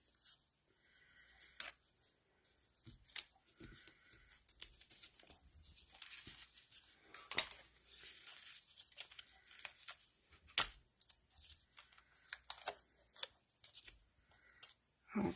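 Scissors snip through card stock, cutting out leaf shapes for handmade greeting cards: a quiet, irregular series of short snips with soft paper rustling and handling between the cuts.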